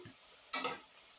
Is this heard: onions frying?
yes